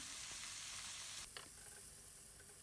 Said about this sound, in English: right now the garlic become light brown, so I'm going to add broccoli and carrot inside